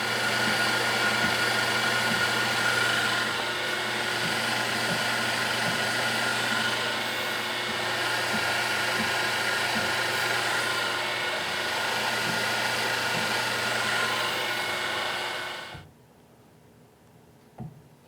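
A CNC mill spindle spins an edge finder while cutting a pin spanner wrench, a steady loud whir with stable motor tones that runs unbroken for about fifteen seconds, then cuts off abruptly into near silence.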